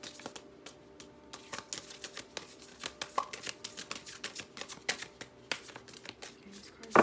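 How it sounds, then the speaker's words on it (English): An oversized tarot deck is shuffled by hand, giving rapid crisp card riffles and taps in irregular bursts, close and clear, with some soft talking in between. "this card's a little big, so it's just harder to shuffle"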